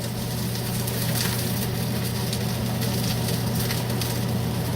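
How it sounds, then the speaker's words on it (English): A sous vide rack of lamb sears in a hot pan with a continuous loud sizzle, steady crackling hiss over a low hum throughout. "Get a nice sear going."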